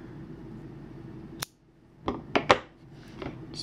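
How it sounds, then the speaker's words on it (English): Scissors snip through yarn after crocheting an oak leaf: a few sharp, close cuts in quick succession against quiet room tone. "we can cut our yarn"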